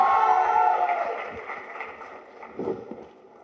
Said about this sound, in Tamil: இதுல ஒரு பெரிய கைத்தட்டல் கொடுத்துடலாம்